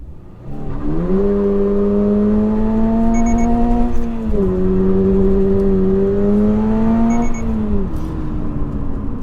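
A Toyota GR86 sports car engine revs hard through the gears, pitch climbing and dropping at each shift, with short electronic shift-up warning beeps sounding twice near the top of the revs.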